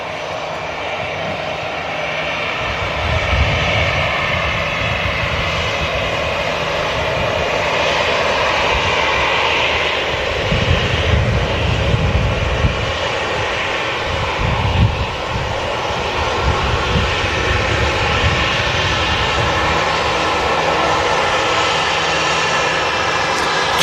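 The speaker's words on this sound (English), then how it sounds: "Jet2 A321 taxiing past the celebrity" A Jet2 Airbus A321 taxis at Manchester Airport, its engines giving a loud, continuous roar with slow swells in a steady broadband rumble.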